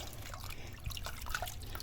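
Short water spray bursts onto a chair being cleaned, heard as soft hissy spritzes with faint dripping at close range, no talk.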